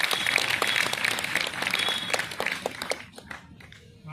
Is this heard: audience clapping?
yes